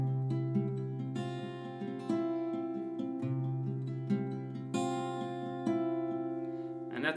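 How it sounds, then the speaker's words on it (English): Acoustic guitar picked note by note through the chords of a song, with clear, sustained tones in a steady pattern, played close and without talking. "So just picking it would sound like this."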